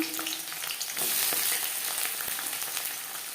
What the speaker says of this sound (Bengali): 3টে পেঁয়াজ। হালকা করে ভেজে নেব।